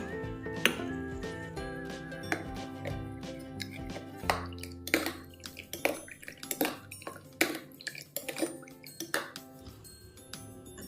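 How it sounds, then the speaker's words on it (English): Slime activator liquid stirred in a bowl, a steady run of close wet clinks, taps and drips from a utensil against the bowl, irregular and fairly quiet, with no talking. "Now mix it until the liquid becomes clear."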